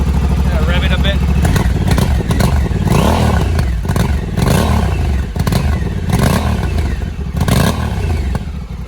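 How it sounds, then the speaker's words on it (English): A Honda CRF1100L Africa Twin adventure motorcycle with its stock muffler, revved repeatedly in loud bursts over a steady idle, each throttle blip rising and falling close by. "I'm gonna rev it a bit."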